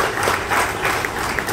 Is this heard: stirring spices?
no